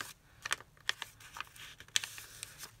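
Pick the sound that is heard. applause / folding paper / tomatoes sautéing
folding paper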